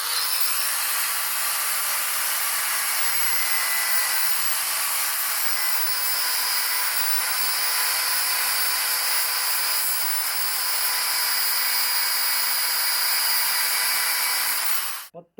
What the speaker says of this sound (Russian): Ну а теперь я возьму болгарку и спилю шляпки болтов